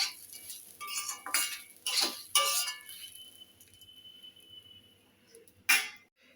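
Ghee-coated rice is stirred in a pan, with several close metallic scrapes and clinks of a spoon in irregular bursts, a quieter stretch, then one more sharp clink near the end.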